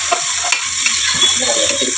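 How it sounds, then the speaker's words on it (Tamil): Chopped onions sautéing in a pan for a home-style biryani, a steady close sizzle with a few soft stirring scrapes and taps, no voices. "இந்த வெங்காயம் நல்லா வதங்கி வரட்டும்"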